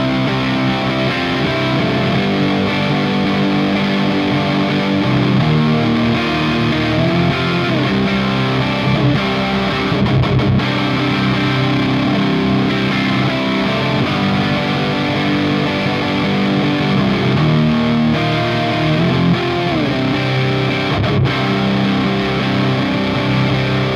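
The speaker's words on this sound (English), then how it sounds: "So, those are the 3 in the distortion mode." A solar-finish electric guitar fitted with custom Aero pickups plays through a distortion setting, loud sustained crunchy chords and riffs continuing for over twenty seconds with brief pauses between phrases.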